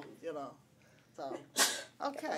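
A single sharp sneeze at a council on aging meeting, loud and close, set between bits of conversational speech from people at the table.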